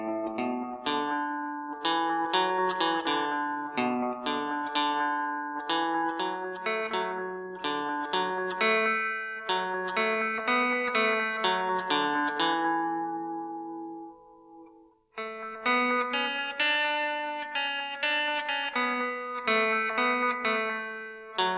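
Electric guitar plays the verse section of a tune, clean picked melody notes with echo and reverb, a brief pause midway before the phrase resumes, close and without voices.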